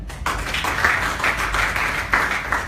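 A business presentation audience claps in a steady burst, many hands together with a slightly pulsing rhythm that swells and eases for a few seconds, close and fairly loud with no talking.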